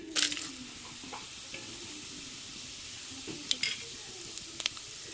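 Curry masala hits a hot pan on a stove while a stingray curry is cooked, giving a steady hiss of frying with a few soft stirring clinks and scrapes throughout.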